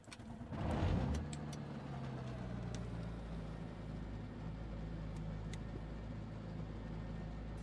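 In Microsoft Flight Simulator 2020, a propeller aircraft engine starts up and surges, then settles into a steady low hum that stays loud to the end.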